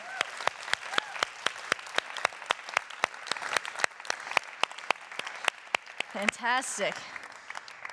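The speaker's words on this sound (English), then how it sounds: "Give them a round of applause." Audience applause at a live workout show, loud steady clapping for several seconds that gives way to a voice speaking over the fading claps.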